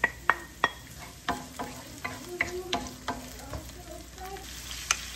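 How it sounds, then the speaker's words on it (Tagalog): Sliced onions hit a hot pan and sizzle softly while a utensil scrapes and taps against the pan at irregular intervals. The sounds are quiet and close. "Lagyan natin ang sibuyas."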